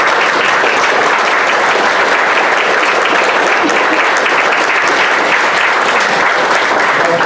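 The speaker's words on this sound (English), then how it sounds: "Let's just give a big hand of applause." A roomful of people applauds veterans at an honor flight event, dense, loud and sustained clapping filling the space without a break.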